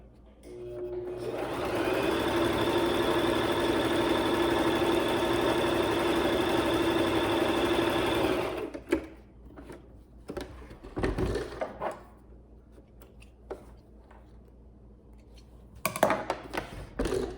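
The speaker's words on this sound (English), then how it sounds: "pin that in place and sew straight down" A sewing machine stitches straight down a seam of a log cabin pillow, running as a loud steady whirring hum for about seven seconds, then stopping, followed by scattered handling clicks and fabric rustles.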